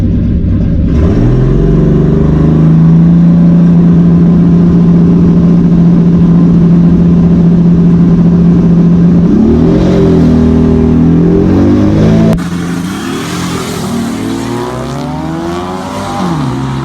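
A Datsun 280ZX with a turbocharged L28 six-cylinder launches hard at a drag track, its engine climbing steadily in pitch through a long, loud pull before shifting into a rougher, higher drone near the end.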